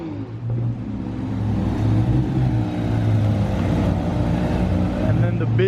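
A Porsche GT3 RS and other cars pulling out of a Christmas toy drive car meet, their engines rising to a loud, sustained rumbling drone with a voice talking over it.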